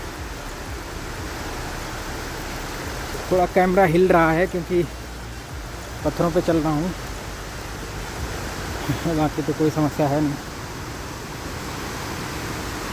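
Steady broadband roar of a forest waterfall, a constant wash of rushing water running through the whole stretch, with a voice talking over it in several short bursts.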